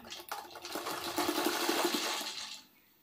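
A sewing machine stitches the top edge of a gathered puff sleeve, a short close burst of fast rhythmic whirring that builds, holds steady, then stops.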